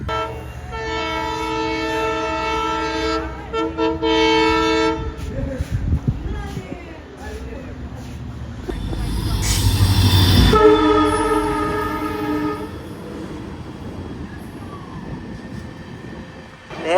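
A passenger train, the Rameswaram–Tambaram Express, runs across the new Pamban Bridge on its inaugural run, its horn blaring in long sustained tones near the start and again after a loud rumbling pass of the rolling stock.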